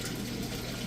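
Water flows down into an aquarium sump, a steady continuous rushing and trickling that stays constant and close with no speech.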